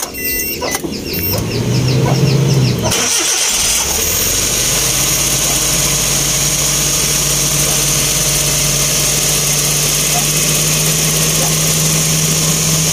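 A Suzuki DA64W turbo engine cranks and catches, then settles into a steady idle with a constant hum, with clucking chickens audible nearby at the start.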